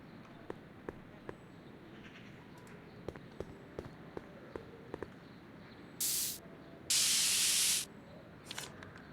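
Spray can hissing in the Back to the Future video game, two sharp bursts of aerosol hiss, a short one then a longer one, standing out loudly over quiet ambient game sounds and light ticking.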